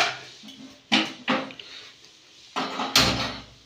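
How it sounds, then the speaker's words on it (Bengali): A wok set down on a gas stove in a home kitchen before frying cabbage pakoras gives a few sharp metallic clanks and knocks, with some quieter handling between them. "এবার কড়াইটা আমি বসিয়ে দেবো।"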